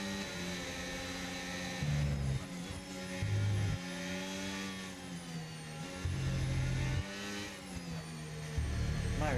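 A Formula 1 car at the 2025 British Grand Prix, recorded onboard through the Maggots and Becketts corners, its engine screaming loud and continuous, pitch rising and dropping sharply with each gear change and throttle lift.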